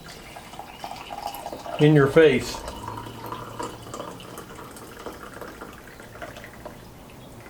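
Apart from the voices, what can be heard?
pouring coffee into a cup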